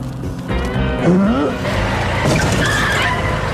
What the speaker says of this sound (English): who should come driving by but Mayor Grody?